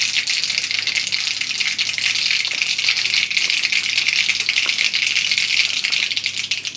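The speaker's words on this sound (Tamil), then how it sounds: "எண்ணெய் காஞ்சோடனே கடுகு போட்டுட்டு கடுகு பொரிஞ்ச உடனே" Mustard seeds splutter and crackle in hot oil for a South Indian dry ginger kara kuzhambu, a dense continuous close sizzle with rapid popping throughout.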